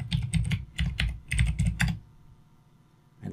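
Someone types a password on a computer keyboard: quick clustered key clicks in short bursts for about two seconds, then quiet before a final tap.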